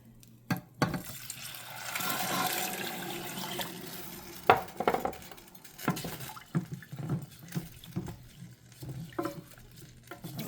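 Water poured from a mug holding a cup and a half onto toasted rice in a pot, a continuous splashing fill with gurgles and a few clinks, moderately close, no talking.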